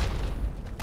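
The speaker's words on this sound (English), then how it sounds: "Okay, it's exploding" A heavy, muffled explosion in Fallout 3 rumbles for under a second as a dense low boom, loud and close.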